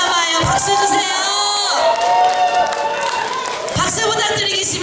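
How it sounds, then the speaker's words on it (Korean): An audience at a Korean trot concert for an elderly community celebration cheers, whoops and claps loudly around a singer's sustained voice and backing music, the crowd noise steady throughout. "박수와 함성."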